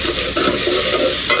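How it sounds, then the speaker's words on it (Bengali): Ginger-garlic paste and spices frying in hot oil with green chillies, a steady loud sizzle with stirring scrapes, close up and without talk. "এখন মশলাটা একটু ভালোভাবে ভাজা ভাজা করে নেবো"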